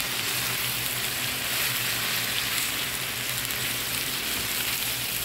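Vegetables with capsicum and cabbage frying on high heat in a pan, giving a loud, dense, continuous sizzle with no pauses and no talking.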